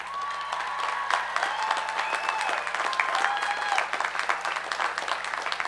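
Graduation audience at a California State University, Northridge College of Science and Math commencement breaks into sustained applause, dense clapping filling the hall steadily with a few faint whistles rising over it.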